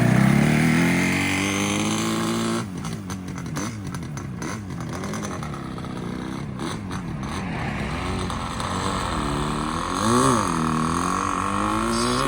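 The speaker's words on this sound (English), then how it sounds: "We've got the two-stroke soundtrack, the Yamaha 350." A two-stroke Yamaha 350 motorcycle pulls away loudly with a crisp, buzzing exhaust that rises and falls through several gear changes at a classic car and bike breakfast, then fades as it rides off.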